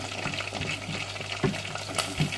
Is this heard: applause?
no